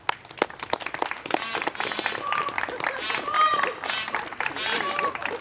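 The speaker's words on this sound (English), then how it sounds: "Let's give him a round of applause" Outdoor crowd at a Salt Lake City Bike to Work Day press conference breaks into scattered clapping, sharp at first and then denser, with birdsong chirping over it and voices mixed in.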